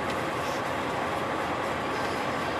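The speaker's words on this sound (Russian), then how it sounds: "Но здесь вот поезд сейчас вот у нас сверху идет" A train rolls along a railway line overhead as it crosses a gorge, a steady, loud, broadband rumble with no letup, heard from inside a moving truck with no voices.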